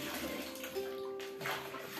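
Water sloshing and churning as soap powder is mixed into water in a large tub for washing a heavy blanket, a short steady splashing swirl close by with no talk.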